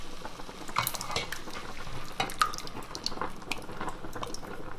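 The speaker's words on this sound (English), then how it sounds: "I'll stir that in for a bit before I add my tomato" A spoon scrapes and clinks against a cooking pot as ingredients are stirred, giving a quiet, close run of irregular metallic taps and wet stirring sounds with no talking.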